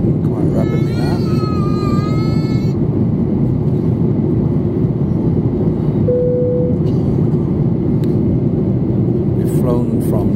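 Steady loud roaring cabin noise fills a Boeing 737-800 descending from Delhi into Mumbai, a constant broadband engine and airflow drone, with a baby crying early on and brief tones over it.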